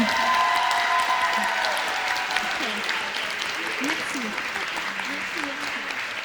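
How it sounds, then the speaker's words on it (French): A theatre audience breaks into sustained applause at the end of an amateur performance, dense clapping filling the room, with a voice speaking briefly over it. "je voudrais aussi un grand applaudissement pour eux qui n'ont pas pu monter sur les planches"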